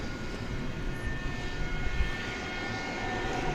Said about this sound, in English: we have one of our featured aircraft backing up